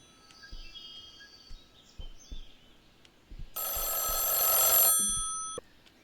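A telephone rings in the horror video game Mothered: soft ambient tones and a few dull thumps, then one loud, bright electronic ring that holds for over a second before cutting off, followed by quiet.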